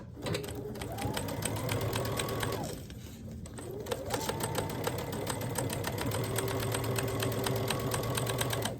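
Close, steady whir of a sewing machine stitching a door hanger, running continuously with one brief slowdown partway through and then picking back up at full speed.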